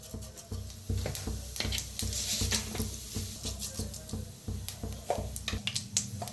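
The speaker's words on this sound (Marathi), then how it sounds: "आता तेल चांगलं गरम झाले, त्याच्यात टाकूया जिरं" Cumin seeds crackle in hot oil in a kadhai, with quick, irregular pops and ticks over a dense, steady sizzle, close up and with no talking.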